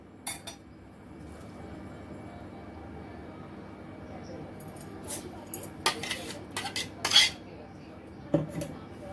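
A metal spoon scrapes and clinks against a strainer and bowl while blended guava pulp is pushed through to remove the seeds, with irregular close clattering bursts that grow more frequent later on.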